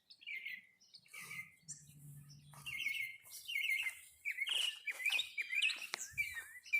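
Morning birdsong along a forest hiking trail: several birds chirp and trill in quick overlapping phrases, fairly faint and outdoors, with a soft low murmur partway through.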